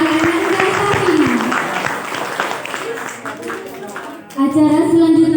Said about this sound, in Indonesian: Beri aplaus yang meriah kepada Ananda Safina.